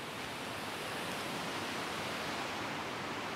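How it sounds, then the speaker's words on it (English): Melincourt waterfall in the Vale of Neath, Wales, roars as a constant, dense rush of falling water, loud and unbroken from nearby with no voices. "the waterfalls are literally 20 yards over there"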